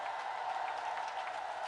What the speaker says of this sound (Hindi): ताली बजाकर स्वागत करिए